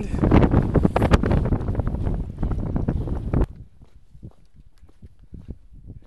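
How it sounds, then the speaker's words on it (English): Wind buffets a microphone outside a cave near Llangattock, Crickhowell, loud and gusty at first, then suddenly dropping to faint, scattered rustles and light footsteps. "What you're going to be able to hear on these recordings is the wind."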